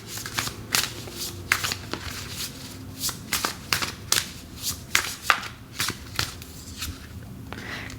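A deck of oracle cards being shuffled close up, with a series of crisp riffling and slapping bursts at an irregular rhythm over a quiet background.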